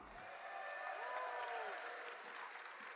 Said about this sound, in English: give everyone here a big round of applause